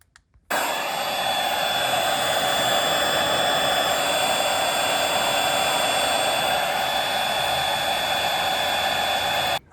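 A heat gun warms the steering wheel of a 6th-generation Camaro, blowing with a loud, steady, rushing roar close by that starts suddenly and holds evenly until it cuts off.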